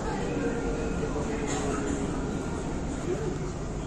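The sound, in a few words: riding the Dubai tram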